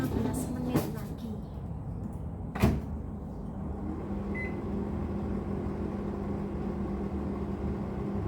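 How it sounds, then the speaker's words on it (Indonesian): A chicken roasting in an oven gives a steady low hum, with a couple of sharp clatters of the oven door or rack near the start. "Masukkan lagi ke dalam panggangan dan kita panggang lagi selama 15 menit lagi."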